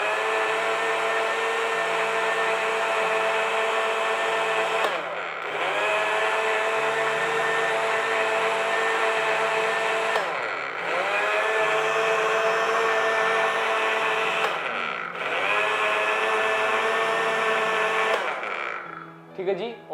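Electric mixer whirring loudly as Rooh Afza lassi is beaten, a steady high motor whine running in long stretches with brief pauses between them.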